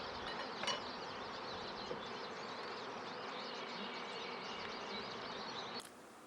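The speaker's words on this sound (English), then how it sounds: "the bees are just going to town orientation flights" Honeybees buzz densely outside a hive during orientation flights, a steady, continuous swarm drone with individual bees passing close by, sustained and moderately loud throughout with no talking.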